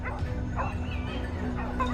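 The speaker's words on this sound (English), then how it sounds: "The hunting dogs pressured a target, their barking relentless, like the sound of a death toll." Hunting dogs bark and yelp in a dense, overlapping chorus at a wild boar in a California forest, loud and close with no pause.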